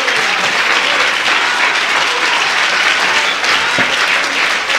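Sustained, dense applause from a large crowd, steady and loud throughout with no talking.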